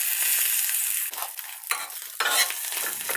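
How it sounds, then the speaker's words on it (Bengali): An egg frying in hot oil in a pan, a loud close crackling sizzle broken by a few scraping stirs, with the spatter dipping and surging again. "ডিম ভাজি লইম।"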